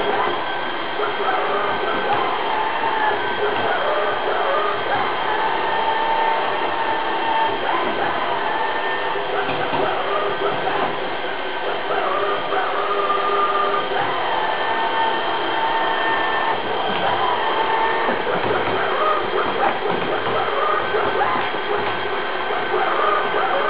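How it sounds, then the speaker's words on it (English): An A320 robot vacuum cleaner running in auto mode, a steady close mechanical whir and hiss that holds evenly throughout with little change. "let's start testing the robot vacuum cleaner"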